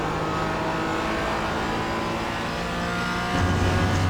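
Porsche Cayman GT engine in the iRacing sim at Road America hums at steady part throttle while coasting, a continuous muffled drone with a faint tonal whine, then a brief rise in level near the end.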